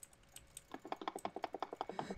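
Computer keyboard keys clicking in quick, steady repeated strokes during Minecraft PvP combat, starting soft and becoming a loud, regular tapping run of about a dozen sharp clicks, close to the microphone with no talking.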